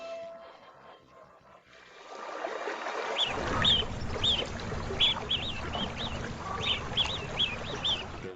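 Soft duck quacks and high duckling peeps repeat in quick bursts over a low rumbling background, with small birds chirping nearby.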